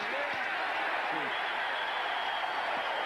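Broadband hiss of a big stadium crowd at Stanford University during a 1989 NFL football game between the Super Bowl champion San Francisco 49ers and the New England Patriots, a steady distant roar with brief voices above it.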